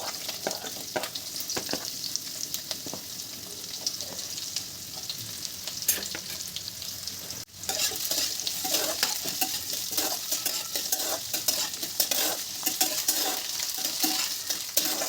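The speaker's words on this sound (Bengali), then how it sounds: "প্রথমে আমি আলুটা তেলে দিয়ে একটু ভেজে নেব।" Potatoes fry in mustard oil tempered with whole cumin seeds and chopped green chillies, giving a steady close sizzle with crackles and occasional scraping of a utensil against the pan, with a brief dip partway through.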